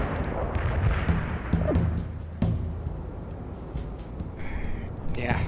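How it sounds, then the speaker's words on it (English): Mortar strike explosions in World in Conflict, a series of booming artillery impacts and sharp cracks rolling through a battlefield at moderate level, with radio voices speaking over them. "Mortar strike completed."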